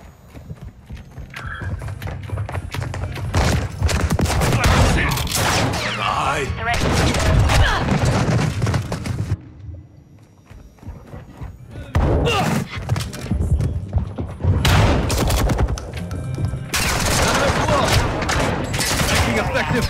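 Gunfire in Call of Duty Modern Warfare 2 (2022) with the X13 pistol: repeated bursts and rapid volleys of shots, loud and close, broken by a short quieter gap, while players talk over the fighting.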